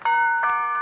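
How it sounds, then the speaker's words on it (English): A single doorbell chime rings clearly in a radio show, a bright two-tone ding that sustains and fades, with no voices. "McGee, that was the doorbell."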